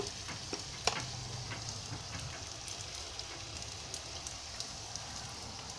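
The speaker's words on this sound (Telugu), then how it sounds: "సిమ్లో క్యాబేజీ ఉడుకుతూ ఉంది, ఫ్రై అవుతూ ఉందండి" Cabbage frying in a pan over a low flame gives a steady, soft sizzle with faint crackles and occasional light taps, continuous and fairly quiet throughout with no talking.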